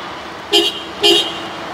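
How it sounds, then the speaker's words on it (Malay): Two short blasts from the horn of a 2022 Honda Civic FE 1.5T, each about a fifth of a second long and evenly spaced, sounding bright and fairly loud against a quiet background. "City dengan Civic lain bunyi horn"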